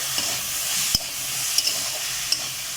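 Chopped ginger stirred and sautéing in a pan for veg momo filling: a steady close sizzle with a few sharp spoon taps against the pan, no talking.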